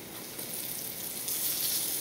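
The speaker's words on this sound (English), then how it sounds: "You want that good sizzle." Cheese-stuffed squash blossoms sauté in a pan, giving off a steady, close, bright sizzle that grows slightly louder partway through, with no talking.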